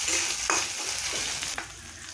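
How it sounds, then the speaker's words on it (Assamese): Ginger-garlic paste and onions sizzle and crackle in a hot pan, a close, continuous frying hiss with a few stirring scrapes. "এতিয়া ইয়াত কেঁচা গোন্ধ যোৱালৈকে এইখিনি ভাজি ল'ম"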